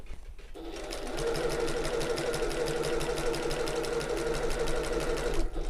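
A sewing machine runs back stitches along a tote bag seam, starting after a brief quiet moment and then chattering in a fast, even, close mechanical rhythm until it stops abruptly near the end.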